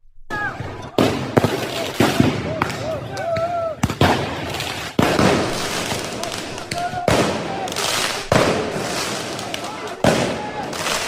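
Fireworks going off at a football celebration around an Arsenal versus PSG Champions League final, with sharp, loud bangs and crackles firing in irregular bursts over a noisy crowd while people talk and shout.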